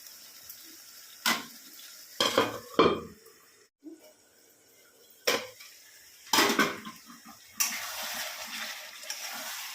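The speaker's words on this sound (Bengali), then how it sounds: "এখন ভালো করে নাড়িয়ে চাড়িয়ে নিচ্ছে" A spoon stirs paneer curry with ginger paste in a metal pan, making irregular loud clanks and scrapes between quieter stretches, then a steadier frying hiss toward the end, with no one talking.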